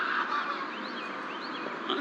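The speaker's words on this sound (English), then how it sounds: "It sounds like a seagull or something." Several birds call in a noisy outdoor spot, taken for seagulls: repeated rising and falling squawking cries over a constant hiss, moderately close and steady throughout.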